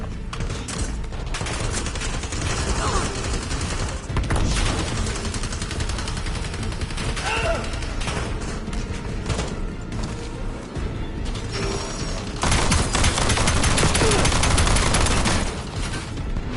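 Sustained, dense gunfire in the Call of Duty Black Ops 7 campaign, with rapid shotgun blasts mixed with clanking mechanical noises and battle clamor, getting loudest near the end.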